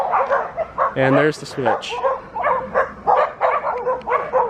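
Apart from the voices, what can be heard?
dogs barking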